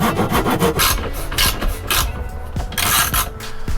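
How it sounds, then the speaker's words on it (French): A wooden batten is filed by hand during a camper van conversion, producing loud, close, rhythmic rasping strokes, about a dozen quick back-and-forth scrapes in a steady rhythm. "Et du coup on est obligé de poncer comme ça,"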